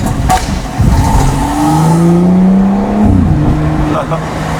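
A BMW M140i engine revs up and pulls away hard from a standstill, its pitch climbing steadily over a steady roar, with a person speaking over it.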